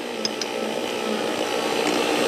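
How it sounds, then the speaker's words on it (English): A power drill turning a winch drum on a test rig, a steady whirring motor drone with slight mechanical rubbing, close and continuous throughout, no talking. "I'm going to stop the drill now."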